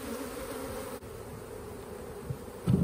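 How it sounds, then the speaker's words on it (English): Honeybees fan at the entrance of a newly transferred hive, making a close, steady, low buzzing drone. It continues without pause, with a soft bump near the end and no talk. "A lot of the bees are fanning."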